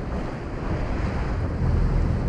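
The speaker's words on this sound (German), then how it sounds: "man sieht schon, das ist doch sehr windig heute." Strong wind roars across the microphone in a constant, loud low rumble, with the wash of water beneath it and no pauses.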